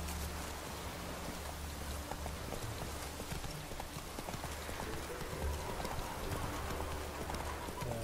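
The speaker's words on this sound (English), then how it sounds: "Oh, there's my horse." Horse hooves clip-clop steadily throughout in a video game, close and even-paced, over a constant rain-like hiss.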